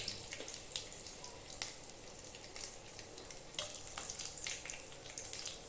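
Dried red chillies, halved, frying in hot oil while cooking a chicken dish, giving a steady close sizzle with occasional sharper crackles and stirring scrapes.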